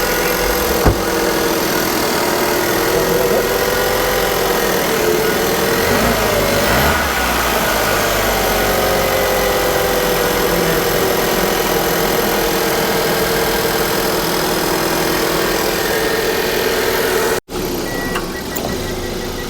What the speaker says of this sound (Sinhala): අපි වාහනේ ස්ටාර්ට් කරා දැන්.